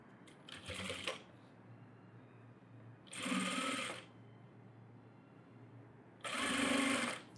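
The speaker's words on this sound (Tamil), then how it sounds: "இதை சென்டரில் வச்சு நான் தையல் போடுறேன்" A sewing machine stitches the back piece of a net blouse in three separate bursts of rapid mechanical chatter, each about a second long, with near-silence between them.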